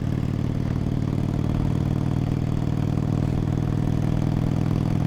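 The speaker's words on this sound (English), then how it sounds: "this bike does sound really good" A modified motorcycle engine runs steadily at close range, a continuous low, throaty idle with faint mechanical clatter and no break in level.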